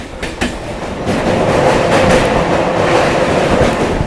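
A Sealdah to Dankuni local train pulls away from Bidhannagar Road junction with a loud, steady rumble and rhythmic clatter of wheels on rails, heard from on board, with no talking.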